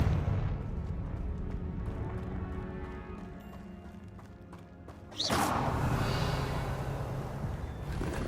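A Confringo blasting spell goes off in Hogwarts Legacy: one sudden, loud blast cuts in after a stretch of low ambient rumble, then leaves a sustained roaring wash behind it.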